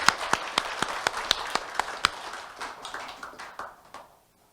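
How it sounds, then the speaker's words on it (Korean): Sharp, fairly sparse handclaps from a small group at a Buddhist college alumni association inauguration ceremony ring out at a steady pace, then thin out and fade to silence after about four seconds. "큰 박수 한번 서로 자축하면 됐으면 좋겠습니다"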